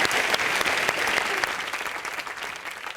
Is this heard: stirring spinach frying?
no